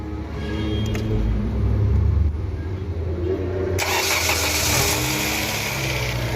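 A car engine cranks and catches, then settles into a steady mid-pitched idle, loud and close, with a sharp brighter shift in the engine noise partway through; no talking over it.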